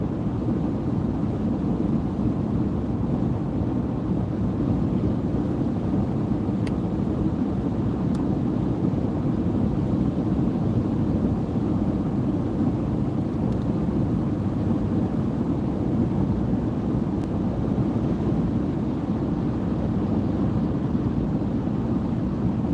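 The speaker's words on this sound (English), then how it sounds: "turn the wind off" Steady wind roaring, apparently through an open vehicle window, as a constant loud low rush with no breaks or talking.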